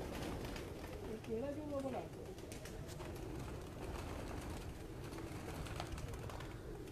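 Pigeons on a rooftop coo softly, one rolling coo standing out near the start, over a steady noisy outdoor background with people talking.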